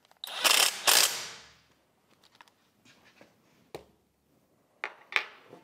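Ratchet wrench tightening 5/16 bolts on a lawn mower blade sharpener stand, close quick bursts of clicking pawl in short spaced runs, a couple of longer strokes then brief taps, with no talk.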